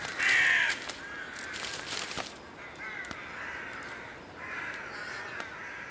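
Crows cawing in a snowy winter landscape, a loud close call at the start followed by several fainter caws and calls spread across the scene, with a quiet outdoor background.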